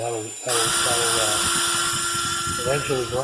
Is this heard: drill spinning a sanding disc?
yes